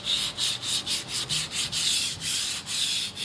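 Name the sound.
sanding filler on kitchen laminate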